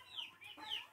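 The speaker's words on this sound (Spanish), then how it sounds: "la cantó el gallo" A rooster on a rural homestead gives a faint, brief two-part call in under a second, heard from some distance with no talking.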